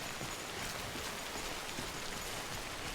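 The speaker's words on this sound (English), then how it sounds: "because the rain's probably not going to stop" Steady rain pours down in the Death Stranding video game, a dense, even hiss of falling water that stays constant and fairly loud throughout, with no voices over it.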